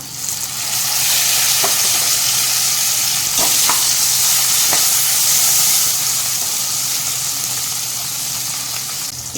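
Steady, loud sizzling of onion and tomato frying in a pan, with a few faint stirring clicks and scrapes; no talking.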